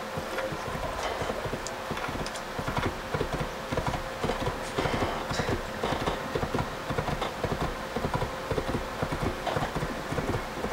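Horse hooves clip-clop in the Assassin's Creed video game, a steady, close, continuous trotting rhythm with faint ambient noise and no talk over it.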